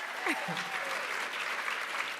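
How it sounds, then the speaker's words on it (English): A conference crowd claps steadily and fairly loudly, sustained applause with a voice rising briefly near the start. "Y'all can clap it up for that."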